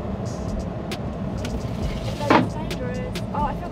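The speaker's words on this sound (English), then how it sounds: "Let's make a brake test" A small expedition vehicle driving during a brake test, its road and engine noise running steadily with a brief louder thump midway while people talk over it.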